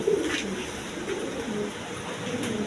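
Fancy pigeons of assorted breeds coo in low, rolling murmurs, close and continuous, with faint rustling of wings and a soft room hum beneath.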